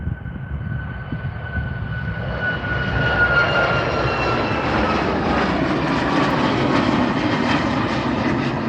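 A Boeing 737 MAX jet takes off from Calgary airport's runway 35R, its engine roar building steadily and holding loud and broad from start to finish, with a faint whine over the rumble.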